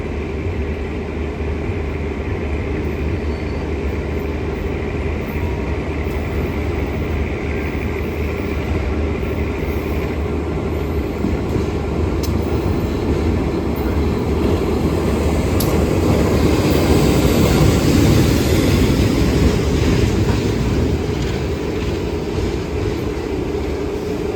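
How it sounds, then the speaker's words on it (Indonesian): KA 432 Penataran commuter train from Blitar, bound for Surabaya Kota, pulling into track 1 at a station, giving a steady broad rumble and rolling noise that swells slightly toward the end, with no talk over it. "Ini persiapan masuk jalur 1 kereta api 432 komuter lain Penataran dari Blitar"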